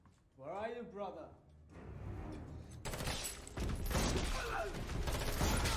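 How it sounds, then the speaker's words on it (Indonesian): Gunfire breaks out in a film shootout involving a bartender's gang. After someone speaks, dense bursts of shots and crashes build to a loud, continuous barrage. "Datanglah komplotan-komplotan si bartender yang ngebuat aksi tembak-tembakan pun terjadi"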